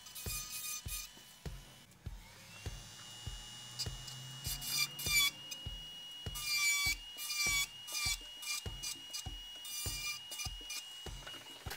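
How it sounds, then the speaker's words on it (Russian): A hand file rasps along the edges of an artificial nail during a manicure correction. The short, close strokes come in a quick, even rhythm, each one a crisp scraping stroke, with no talking. "После фрезы всегда прохожусь пилочкой по торцам."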